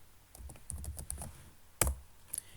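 Keys on a computer keyboard are typed in a quick, irregular run of close clicks while entering a command in the MATLAB 2018 command window, with a louder keystroke cluster after a short pause.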